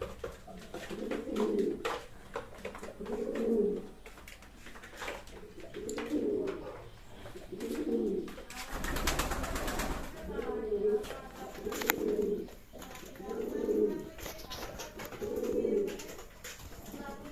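Racing pigeons kept in a Bangladeshi village coo close by in a steady series of low, throaty calls roughly every two seconds, with a short burst of rustling noise partway through.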